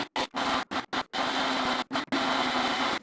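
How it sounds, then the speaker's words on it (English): An electric blender runs on its Ultra Blend setting in short, loud pulses, stopping and starting several times before a longer steady whir. "Stick that on the blender here."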